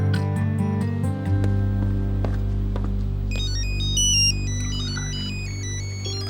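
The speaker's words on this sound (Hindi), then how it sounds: "मॉम का फोन है।" A phone ringtone plays loud and continuous, a steady repeating electronic melody with no talking over it.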